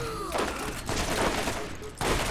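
Rapid bursts of gunfire from the Borderlands video game crackle loudly in quick succession, with brief gaps between volleys and faint game sounds around them.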